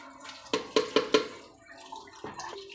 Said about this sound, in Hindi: अब इसके अंदर पानी ऐड करेंगे।